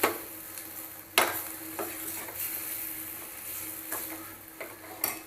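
Eggplant bharit with onion and spices is stirred in a pan, with gentle sizzling under scraping strokes and a few sharp clacks of the spoon against the pan.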